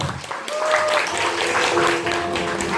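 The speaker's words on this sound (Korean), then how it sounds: "박수 보내주세요" Guests applauding at a Korean first-birthday party in a banquet hall, a moderate sustained clapping from the crowd mixed with background chatter and a voice over a microphone.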